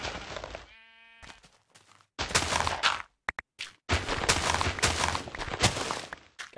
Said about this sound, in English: all these sheep just out here are making me a little anxious